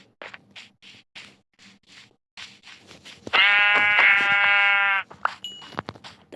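A Minecraft sheep gives a single loud, drawn-out bleat close by, with soft tapping and clicking before and after it.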